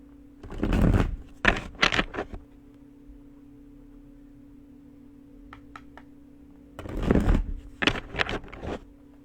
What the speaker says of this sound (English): 3 more shuffles. I will draw 1 card.